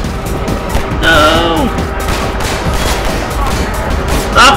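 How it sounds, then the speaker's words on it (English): Gunfire aimed at the player in Half-Life 2 crackles in bursts across the clip, mixed with game effects and moderately loud. "Stop shooting at me!"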